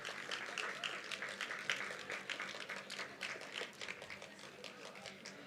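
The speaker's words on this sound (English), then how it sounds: "Can we have a huge round of applause for them?" Audience applause at a university day ceremony honoring award winners, a steady dense wash of clapping held at moderate distance throughout, fairly quiet overall with no distinct voices over it.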